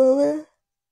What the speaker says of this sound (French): j'avais pas prévu de bailler